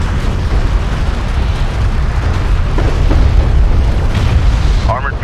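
A loud, sustained explosive rumble as an armored vehicle is destroyed in the sci-fi strategy game Homeworld: Deserts of Kharak, dense low booms rolling across the whole moment amid battle noise, with a synthetic radio voice talking near the end.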